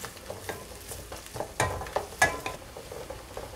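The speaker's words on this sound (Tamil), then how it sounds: "இப்போ அதில் கட் பண்ணி வச்சுருக்க பூண்டு சேர்த்துட்றேன், இஞ்சி, பச்சை மிளகா, கருவேப்பிலை. இந்த எண்ணெயிலேயே நல்லா வதக்கிடலாம்." Garlic, ginger, green chilli and curry leaves sauté in hot oil for a Kerala-style chickpea curry. A low sizzle runs under a few sharp spatula scrapes and knocks against the pan, with no voices.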